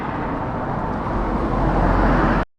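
A car on a rural road in Albania sweeps past close by, a loud steady roadway roar that builds and then cuts off abruptly.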